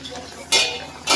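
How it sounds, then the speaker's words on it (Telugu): A lid set onto a cooking pot in a home kitchen, giving two bright metallic clanks about half a second apart, close and fairly loud. "ఇప్పుడు దీన్ని మూత పెట్టేద్దాం."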